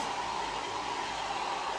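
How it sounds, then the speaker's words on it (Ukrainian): A small electric blower runs steadily while drying a freshly brushed cat, giving a continuous, fairly loud airy whoosh with an even tone and no pauses, heard alone without talk. "Сушитись феном цей містер не хоче, тому включила дуйку."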